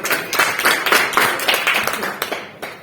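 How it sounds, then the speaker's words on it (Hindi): Enthusiastic applause honoring an Anganwadi supervisor at a recognition event, many hands clapping in a dense, steady burst that continues for a few seconds before tapering off. "तो इनके लिए भी एक जोरदार ताली है"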